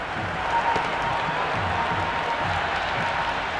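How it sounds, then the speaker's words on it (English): A stadium crowd at an IPL cricket match between CSK and KKR cheers and applauds a six, a dense, sustained roar swelling slightly early on, with a commentator's voice faintly underneath. "The crowd is electric right now."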